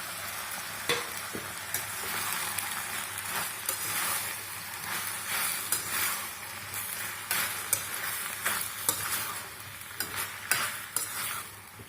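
Ridge gourd and tomato fry in a pan while being stirred. A steady, fairly loud sizzle runs the whole way, broken by frequent scraping and clacking strokes of the spatula. No one speaks.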